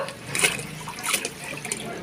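Dirty water flows and splashes while a water tank is being cleaned, a close, uneven gushing with surges and bubbling.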